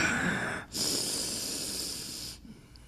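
Slow breathing during a yoga cat-cow spinal wave, a long airy exhale followed by a brief pause and a steady drawn-out inhale, close and alone with no talk.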